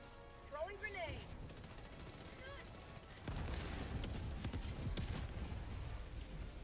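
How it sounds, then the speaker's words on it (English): Grenade going off in a shooter video game: a sharp burst about halfway through, followed by a louder sustained rumble and crackle, with scattered gunfire and game chatter before it. "Throwing grenade."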